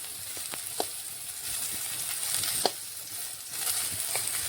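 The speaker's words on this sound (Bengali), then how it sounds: "আমি এখানে কম তেলে ভাজছি, আপনারা পারলে বেশি তেল দিয়ে ছেঁকেও নিতে পারেন।" Bitter gourd pieces fry in a little oil with a soft, continuous sizzle, broken by occasional light clicks as the pieces are turned, with no voices.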